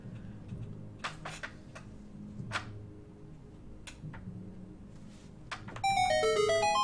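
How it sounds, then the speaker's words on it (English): Magic bell item being rung in the video game Enter the Gungeon, giving sharp isolated ticking chimes over game sounds, then a bright bell-like tone sequence bursting in loudly at the end. "This bell appears to be made of different materials at different times. The morphled tones it emits echo forwards and backwards."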